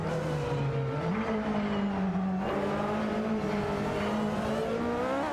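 Aston Martin AMR1 and Porsche 962C Longtail race cars in a video game duel, a steady loud engine drone with a rising pitch shift partway through, continuous throughout.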